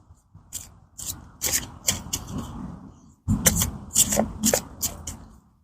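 A deck of cards is shuffled by hand in two bursts, a run of quick riffling flutters and soft slaps, then a short pause and another louder round, close up with no voices.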